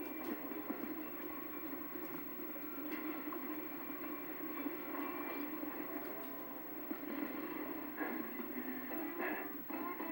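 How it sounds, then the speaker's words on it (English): A video game train rumbles past in a steady, continuous low roll, holding even loudness throughout with faint rattling detail and no voices. "Where did the train go?"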